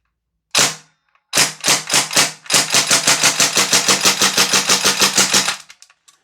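A Northeast Mini UZI gas blowback airsoft gun fires on full auto, a single sharp crack, a short burst of three, then a long rapid string of loud snapping shots close up.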